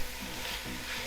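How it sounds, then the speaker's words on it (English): Carrots fry in oil in a pot for traditional Uzbek plov while being stirred, giving a steady, close sizzle with soft scraping throughout. "So we stir it, right, and then we leave our carrots till they become soft."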